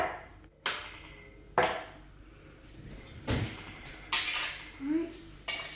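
Glass jars for canning rice are shifted across a kitchen counter, giving several separate clinks and knocks spaced a second or so apart, fairly close, with a person talking between them.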